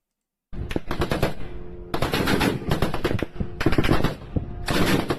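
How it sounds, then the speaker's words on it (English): Bursts of rapid automatic fire from a machine gun over a century old, loud and close, in three or four sustained strings of rattling shots separated by brief pauses. "huge respect for this man using an over 100-year-old machine gun to shoot"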